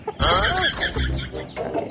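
A chicken clucks in a short, busy burst of close, squawky calls, followed by softer clucks.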